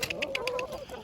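Neighbors' backyard chickens cluck close by in a quick series of short, bright calls, with one bird's clucks rising into a drawn-out squawk.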